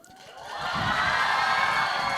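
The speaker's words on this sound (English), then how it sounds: "Should we give a little cheer for our Miss Tony?" A school audience of students and staff lets out a cheer for their vice principal, a broad wash of crowd voices swelling after a moment and holding steady and loud to the end.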